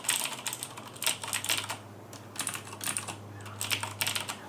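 Fast typing on a Razer BlackWidow Tournament mechanical gaming keyboard comes in close, crisp bursts of clicking keystrokes with short pauses between them, and a low hum sits underneath.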